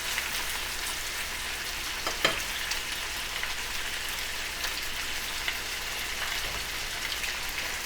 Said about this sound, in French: Et tout ce que nous allons faire, c'est juste faire revenir ça dans l'huile.